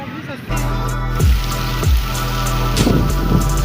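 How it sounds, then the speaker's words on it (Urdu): Heavy rain pours down in a steady, dense wash, loud and close, with a person talking over it throughout. "بارش تو بہت ہو رہی ہے"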